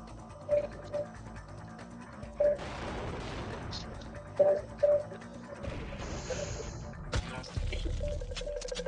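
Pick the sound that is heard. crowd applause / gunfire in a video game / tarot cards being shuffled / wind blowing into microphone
gunfire in a video game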